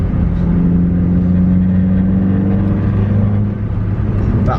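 A Renault Clio 172 engine screams high in the revs, a loud, steady, sustained drone held close up with no break for several seconds.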